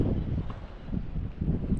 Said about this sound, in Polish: Ale ten wiatrzysko się